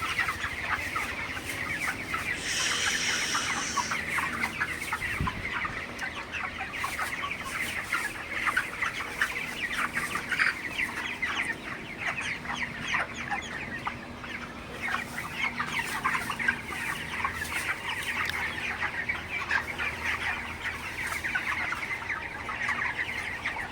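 Many 28-day-old broiler chickens cluck and chatter continuously at close range, a dense, busy flock sound filling the whole stretch with no talking.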